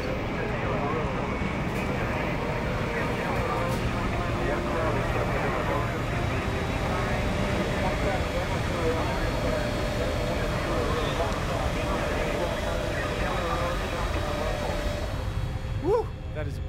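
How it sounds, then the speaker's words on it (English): Large airplane engines in a disaster movie give a steady, loud roar that fills the whole stretch without a break, with a brief rising whine near the end. "That is a big plane."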